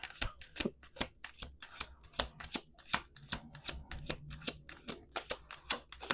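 Playing cards being shuffled, a rapid run of crisp riffling snaps and flutters, close and steady, with no talking.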